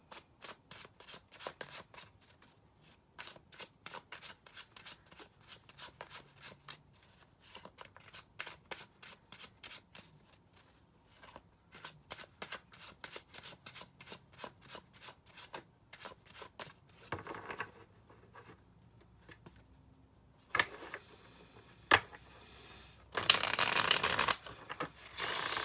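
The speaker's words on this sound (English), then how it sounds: "You can totally skip over the shuffling," Tarot cards are shuffled steadily for about twenty seconds, a quick crisp riffling of overlapping card flicks with no talking, ending in a few louder, sharper bursts.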